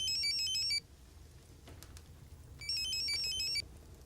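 A phone rings in two electronic bursts separated by a pause, a high warbling ringtone over a low background hum.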